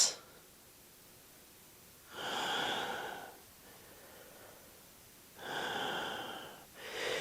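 Slow audible breathing during a yoga shoulder stretch: two long, soft, airy breaths, near and steady, separated by quiet pauses.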